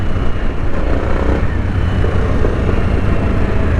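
A Harley-Davidson Sportster S 1250cc motorcycle roars steadily under hard acceleration during a wheelie, its engine rumble loud, close and continuous with no pauses.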